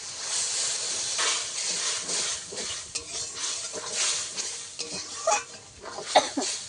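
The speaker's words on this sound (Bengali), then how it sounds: "জল দিয়ে দেবো। এবার ঝালের ঝোলটা ফুটে ওঠা পর্যন্ত অপেক্ষা করব।" Water poured into a pan of sizzling spice masala for a spicy fish curry produces a broad, hissing sizzle with stirring scrapes. The close sound swells and eases with a few louder bubbling bursts near the end, and no one speaks.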